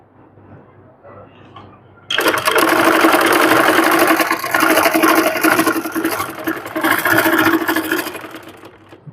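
A freshly rethreaded sewing machine starts abruptly after a quiet moment and runs loud and continuous, a dense motor whir with fluctuating intensity that continues to the end.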